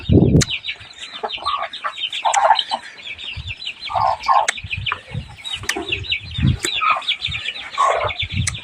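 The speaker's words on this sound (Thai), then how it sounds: "อ้ไก่กับพ่อไก่" Hens and a rooster clucking repeatedly in a farmyard, with busy overlapping calls and a constant high chirping bird chorus behind, moderately loud and close.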